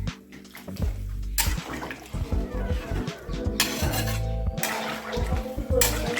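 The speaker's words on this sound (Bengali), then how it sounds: "এখন আমি দিয়ে দেবো পরিমাণ মতো জল। জল দিয়ে এখন আমি যে মশলাটা ভালো করে মিশিয়ে নেব জলের সাথে।" Water is poured into a soybean curry and stirred into the spices in a pan, with splashing pours, metallic clinks of a spoon against the pot and bursts of louder sloshing, close and busy throughout.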